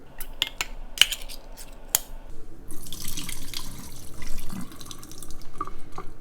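Water from a kitchen tap runs into a sink to rinse drained canned corn, with a few sharp drips and clinks at first, then a steady splashing flow close by.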